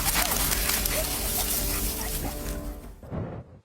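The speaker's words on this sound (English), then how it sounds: "This dog barked at the cars" A dog guarding a blind man at a road crossing barks at passing cars, its yelps and whines running almost nonstop over a dense, noisy background for about three seconds before cutting off abruptly.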